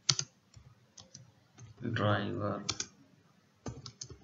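Computer keyboard keys clatter in quick bursts of clicks while Selenium code is written, with a stretch of someone talking in the middle before the typing resumes close and distinct.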